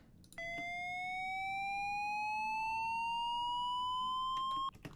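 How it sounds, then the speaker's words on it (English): A single clean sine wave riser made with Ableton's Operator synth slowly glides upward in pitch over about four seconds, steady and loud, then cuts off abruptly. "I have this sine wave riser that I just made from an operator."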